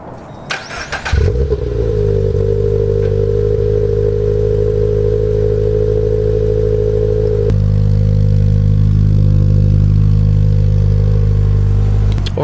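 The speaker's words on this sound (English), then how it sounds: "Semi-cold startup." A car engine semi-cold start: a short cranking burst at about one second catches into a loud, steady idle that holds alone for the rest of the clip, with a slight shift in tone partway through.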